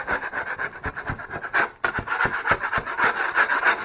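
A scraper drags over a thick caulking line on a kitchen drywall wall, making repeated rhythmic rasping strokes, close and moderately loud, with no voices.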